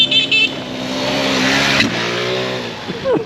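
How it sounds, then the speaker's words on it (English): A moped engine revs up and holds a rising, buzzing drone as it rides over a small jump, with a short thump midway, close and loud, and brief voices at the start and end. "He's about to hit it with a moped."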